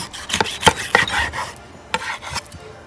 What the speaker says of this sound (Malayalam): നമുക്കൊരു 3-4 സ്റ്റേക്സ് ഇങ്ങനെ കട്ട് ചെയ്ത്.